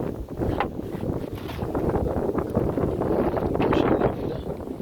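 Steady wind buffets the microphone at a beekeeping site in April, with a constant low rumble and gusting roar, loud and unbroken throughout.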